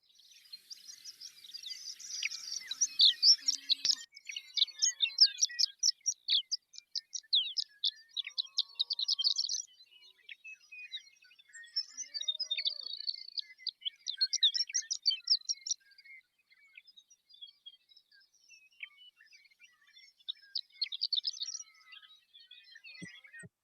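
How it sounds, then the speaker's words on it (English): Horned lark singing over open prairie: rapid, rising, tinkling phrases repeated in bursts, clear and fairly close against near silence. "The horned lark's rapid rising tinkling song will typically be heard high above the open"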